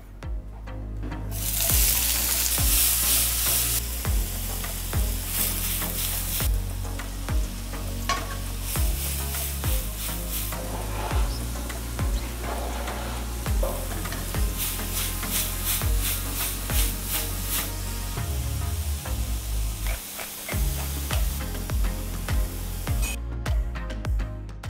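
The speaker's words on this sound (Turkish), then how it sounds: "soğan, sarımsak, pancar ve yine küp doğramış olduğum mantarlarla birlikte soteleyeceğiz." Onion, garlic, beet and cubed mushrooms sauté in a pan, giving a steady, close sizzle broken by repeated stirring scrapes and clatters, with no talking throughout.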